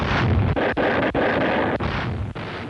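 Naval gunfire in a Pacific battle on an old newsreel soundtrack, a dense roaring barrage broken by several sharp dips between heavy blasts, loud and continuous.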